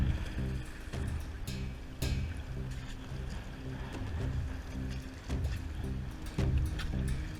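Kayak paddled through open water among a group of sharks, with splashing strokes and water sloshing against the hull repeating at a steady pace, close and moderately loud.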